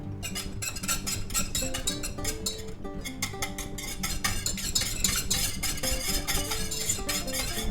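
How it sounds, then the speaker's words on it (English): A whisk stirs water and lemon juice for hollandaise sauce in a bowl, with rapid, continuous metallic clinking and scraping close by, steady throughout without talk. "Now we're going to go ahead and whisk that together."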